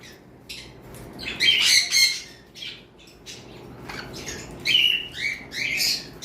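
An adult female crimson-type conure parrot squawks loudly and close by in several harsh, piercing bursts separated by short quiet gaps over a low background hum.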